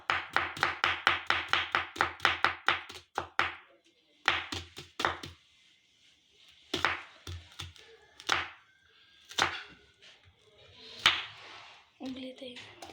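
Green chilies being chopped with a knife on a board, a quick run of rapid evenly spaced close chops followed by slower scattered cuts and knocks.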